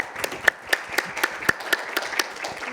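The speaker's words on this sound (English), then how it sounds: "So can we give her a massive round of applause" Audience at a conference session claps for an introduced speaker, a sparse, fairly rhythmic round of individual claps close by that stays moderate and even throughout.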